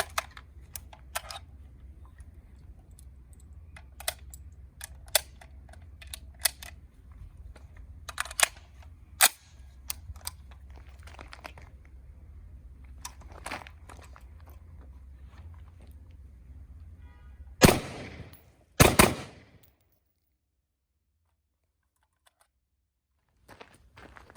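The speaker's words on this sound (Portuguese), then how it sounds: "vamos fazer 3 disparos, um disparo único e 2 disparos rápidos" Two loud, sharp shots from a Taurus T4 5.56 rifle ring out near the end after scattered clicks and handling noises; the second shot trails into brief echo, then silence.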